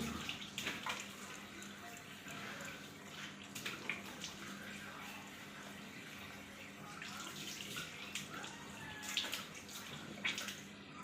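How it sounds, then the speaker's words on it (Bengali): Tap water runs steadily into a basin while hands and face are washed at home, a continuous close splashing hiss with brief louder gushes and faint background room noise. "হাত মুখ ধুই"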